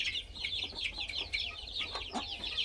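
Chickens cluck steadily near at hand, a rooster and hens at a Thai gamecock farm with Japanese-breed hens, the rapid overlapping calls continuing throughout over a low background hum.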